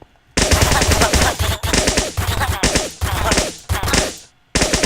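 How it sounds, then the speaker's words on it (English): Syringe gun from a TF2 mod in Minecraft firing darts in rapid bursts, loud close bursts of quick repeated shots separated by short pauses. "Now this is a syringe gun."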